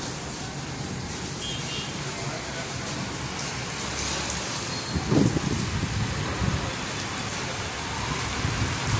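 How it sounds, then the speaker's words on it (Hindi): Rain pours steadily in a dense, even hiss, with a brief low rumble partway through. "देखिए बारिश हो रही है"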